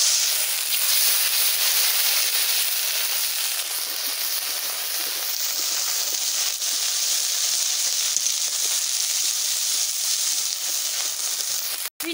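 Ground spice paste hits hot oil in a pan for a Kokari fish head curry, giving a loud, steady, bright sizzling hiss that runs unbroken for about twelve seconds before cutting off abruptly.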